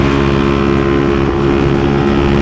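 Bajaj NS400Z motorcycle with a full-system exhaust running flat out at high speed, a loud continuous engine drone with strong steady harmonics and wind rush, no voices.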